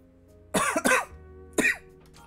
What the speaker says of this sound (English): I swear, if my cough is just back because I started streaming.